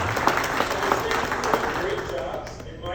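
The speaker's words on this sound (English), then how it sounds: "Do we have a round of applause for Chris?" Applause greets Chris at an annual meeting Q&A session: a sustained wash of clapping from a crowd in a hall, fairly even throughout and tapering slightly toward the end, with voices mixed in.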